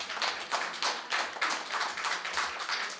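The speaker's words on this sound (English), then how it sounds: "Ladies and gentlemen, give them a round of applause." Audience applause after a public sector debate competition: steady bursts of clapping swelling and easing over a few seconds, moderately close, with no talk.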